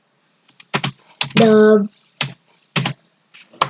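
Computer keyboard keys tapped in short, uneven bursts, close and crisp, with a spoken word cutting in partway through.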